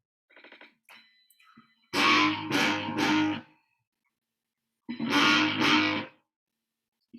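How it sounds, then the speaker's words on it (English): Two bursts of harmonica, heavily distorted and buzzy, each with a few pulsing chords, separated by silence after quieter scattered notes. "this is a distortion song"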